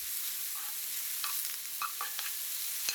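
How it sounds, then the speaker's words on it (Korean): Mushrooms stir-fry in a pan with a pinch of salt, a quiet, airy sizzle punctuated by a few light utensil clicks and scrapes, close and steady for a few seconds, with no one speaking. "버섯 한 줌 덜어놓고 볶아주세요"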